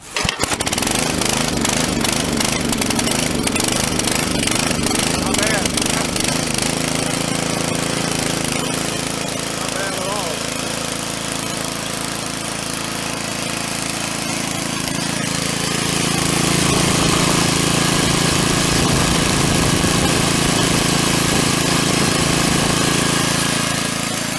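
Small lawn mower engine sputtering through pull-starts, then catching and running steadily, loud and close, with a brief louder rev near the end.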